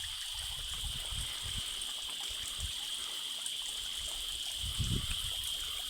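Water flows and trickles continuously nearby at the Sri Gubbala Mangamma temple, a steady hiss with a few low splashes and gurgles.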